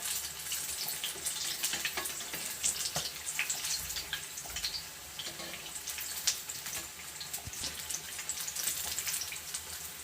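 Egg bondas, boiled eggs coated in gram flour batter, fry in hot oil with a steady dense bubbling and sizzle, a few louder pops and crackles scattered through, no voices.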